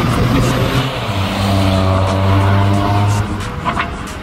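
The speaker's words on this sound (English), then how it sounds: "someone who loves the feel and sound of a combustion engine" A Toyota Corolla Cross H2 hydrogen combustion prototype revs up and holds a loud, rising drone close by, then eases off near the end.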